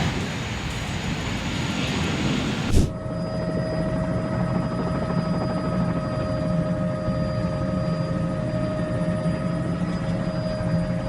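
Helicopter flying over a neighborhood in Antigua, Guatemala, a steady loud rotor and engine drone with a sharp bump near the start, then a constant whine holding alone to the end.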